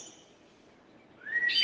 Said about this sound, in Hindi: चिड़ियों का आवाज।